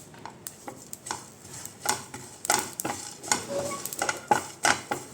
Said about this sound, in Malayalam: നന്നായിട്ടൊന്ന് ഇളക്കാം